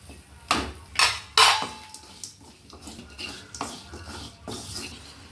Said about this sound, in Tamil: தக்காளி வணக்கலாங்க தக்காளி வணங்கிடுச்சுங்க